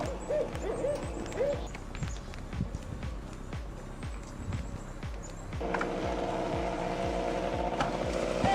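An owl hoots in several soft, rounded calls near the start, set against woodland ambience with thuds and shuffling steps, and a louder noisy background takes over midway.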